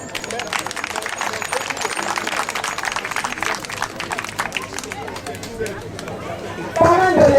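Crowd at a kindergarten teachers' year-end celebration in Bouaké applauds the event's sponsor, a dense, steady patter of many hands with chatter mixed in, ending as a voice comes in over a microphone.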